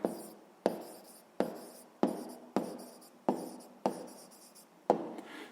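Handwriting on paper while solving a sixth-grade maths exercise: eight or nine distinct strokes of pen scratching in a steady rhythm, each a short scrape fading out, close and clear with no talk.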